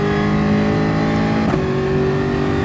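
A race car engine in Gran Turismo Sport holds a loud, steady drone, then its pitch drops sharply partway through as the car slows for a corner and carries on at the lower note.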